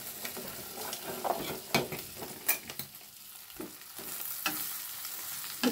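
An egg fries in a pan with a soft, continuous sizzle, broken by a few scraping and stirring clinks of a spatula against the pan.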